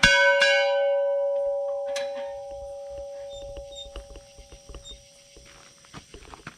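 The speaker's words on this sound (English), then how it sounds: "Right now, we're gonna ring the bell." An old manor bell is struck once with a bright, ringing clang that hangs and slowly decays, followed by a second fainter strike and soft footsteps and shuffling nearby.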